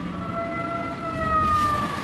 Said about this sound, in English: On March 11th, the sirens sound.